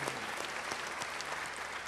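A church congregation applauds during a worship service, a dense, steady round of clapping heard alone at moderate distance.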